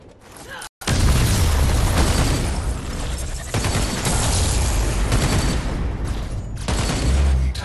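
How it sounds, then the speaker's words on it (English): A tower is destroyed in the game Paragon: after a brief cutout, a loud sustained crashing, booming roar of debris and blasts fills the clip, with a second heavy surge midway and continued rumble. "Enemy tower destroyed."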